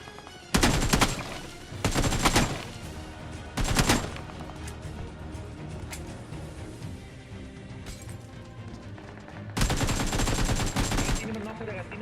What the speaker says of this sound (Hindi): अब इस वाले बंदे को मारने के बाद मुझे सामने से बहुत ज्यादा फायरिंग की साउंड आती है